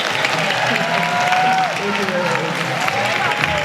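Audience applause from a crowd at a Lagos women's empowerment session, steady dense clapping running throughout at a fairly loud level, with a voice speaking briefly over it.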